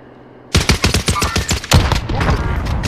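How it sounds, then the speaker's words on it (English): Rapid bursts of automatic gunfire in a first-person shooter, loud and close, starting abruptly after a moment of quiet and continuing in dense, overlapping volleys. "I hear bullets"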